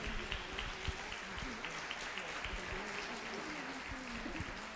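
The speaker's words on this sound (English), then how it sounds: "so that they can give you a round of applause." An audience applauds a board president at a Black History Month event, a steady, dense wash of clapping from a crowd that runs the whole time, moderately loud, with some voices mixed in.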